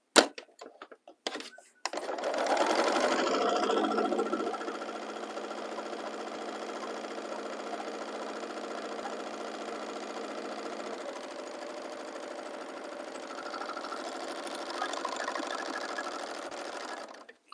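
After a few brief clicks, a serger starts up and runs continuously, sewing a chain stitch and a serged edge at once. It gives a loud, steady, fast mechanical hum that eases slightly partway through before stopping at the end.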